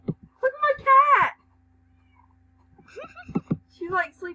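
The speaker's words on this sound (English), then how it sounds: "Look at my cat!" A cat in a video game gives a drawn-out meow near the start, followed by quieter mewing and chirps toward the end, with a faint steady hum underneath.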